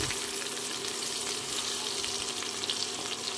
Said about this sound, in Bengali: ঢাকা খুলে আরও একবার আলুগুলো নাড়িয়ে নিতে হবে